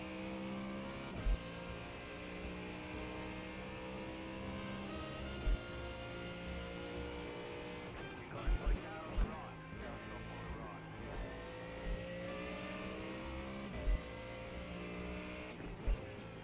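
Race car engine in iRacing, a steady droning note with gear-like shifts in pitch and periodic sharp clicks, fairly quiet and continuous with no speech.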